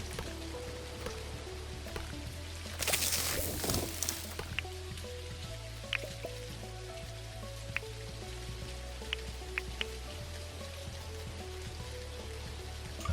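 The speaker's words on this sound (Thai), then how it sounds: "อ่ะฝนตกอีกหกโมงเย็นพอดี" Rain falls steadily in the video game Dinkum, a soft constant patter with scattered drop ticks over low game ambience, and a brief louder rushing burst near the start.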